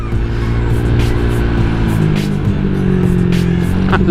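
A Honda Vario 150 motor scooter engine idles with a steady, throbbing drone, loud and close, with faint ticking and rattles on top.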